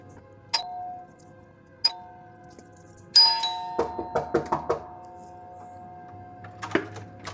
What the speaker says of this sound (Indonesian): bel pintu apartemen mereka berbunyi terus-menerus